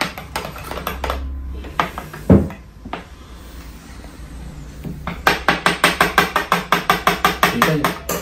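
A spoon stirs saffron strands into salep (salab misri) in a cup, with scattered clatter at first, then a quick, even run of light clinks near the end.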